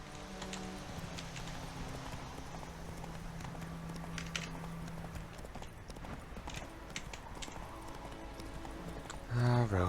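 Steady horse hooves clip-clopping at a walking pace in The Witcher 3: Wild Hunt, with game ambience and music beneath; a short louder burst at the very end.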